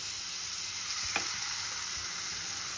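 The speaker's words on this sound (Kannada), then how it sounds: "ಇದರಲ್ಲಿ ನಾನು ಕಟ್ ಮಾಡಿ ಇಟ್ಕೊಂಡಿರೋ ಟೊಮ್ಯಾಟೋಸ್ ಹಾಕ್ತಿದ್ದೀನಿ" Chopped tomatoes fry in ginger-garlic paste with a pinch of turmeric for dhaba-style egg keema. A steady, soft sizzle runs throughout, with a brief stirring clack near the middle and no talking.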